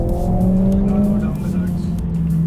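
A Mercedes-AMG A 45 S 4MATIC+ in Race mode accelerates hard, its engine note droning loud and steady with a rising tonal whine throughout, close and continuous.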